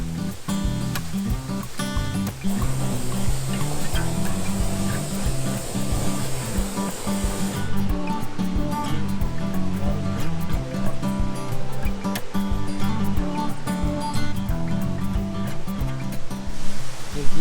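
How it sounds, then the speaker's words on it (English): A loud triple waterfall on an Ozarks trail roars steadily and close, a broad continuous wash of rushing, splashing water with no talk over it. "There it is, the twin with triple waterfall. It's so loud."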